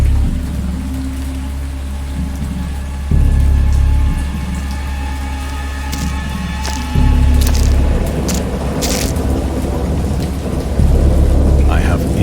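A heavy thunderstorm from the video game Dagon: steady pouring rain with deep rumbling thunder rolling in repeated swells, loud and continuous.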